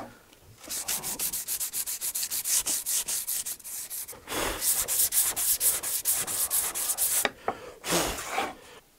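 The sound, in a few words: sanding painted wood panel with sandpaper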